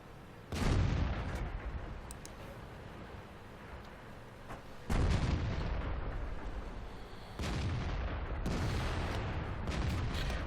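Crusader SP self-propelled artillery fires in World of Tanks, three heavy booming blasts spaced several seconds apart, each a sharp loud crack followed by a long rolling decay.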